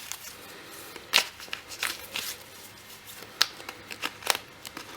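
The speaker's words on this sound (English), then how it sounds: "let's shuffle the cards and see what's in store for you guys" Tarot cards being shuffled by hand, giving several sharp riffling bursts with short gaps between them, close and clear, with no talking.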